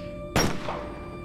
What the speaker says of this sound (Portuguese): o vidrinho quebrando